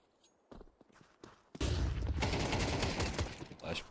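Pistol gunfire in a Counter-Strike esports match bursts into a dense, rapid volley after a few soft footsteps, loud and sustained to the end.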